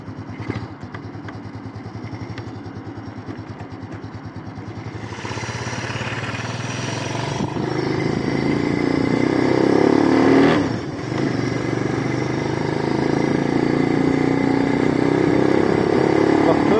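A Kuba 50cc motorcycle engine warms up at idle, then revs harder from about five seconds and holds a loud, steady drone, close to the microphone, with a brief dip near eleven seconds.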